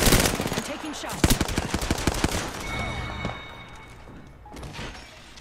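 Rapid bursts of automatic gunfire from an Apex Legends match on Xbox, loud and close, with dense rattling volleys early on that thin into scattered shots and fade toward the end.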